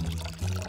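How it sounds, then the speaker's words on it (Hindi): Water poured onto a plant in a short, steady stream, close and continuous for under a second. "ओह, मुझे इसे पानी देना होगा।"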